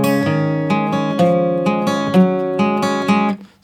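Electric guitar plays a short intro riff from a song, tuned down a semitone, with a steady run of plucked notes ringing into each other, then a brief fade at the end; clear and close with no voice.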